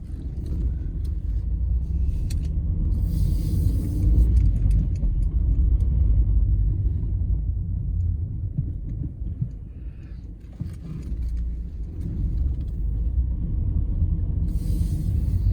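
Inside a car on a 7.5-mile driving test route from the Sidcup test centre, a low, continuous engine and road rumble runs steadily throughout, with faint rattles and no talking.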